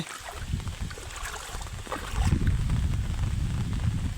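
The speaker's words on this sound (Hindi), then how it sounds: "बाप रे एत वर्षा है देखो" Heavy rain pours and running water rushes outdoors, a dense broadband hiss that swells louder about halfway through and stays steady, with no voices.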